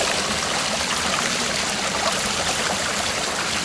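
A wilderness creek flows near a rocky campsite with a steady, close, broadband rush of water, constant and unbroken, with no voices.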